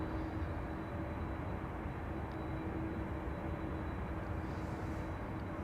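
A KLM Boeing 787-10 Dreamliner, registration PH-BKA, departing Amsterdam Schiphol, heard as a steady, distant low jet roar with no clear rise or fade.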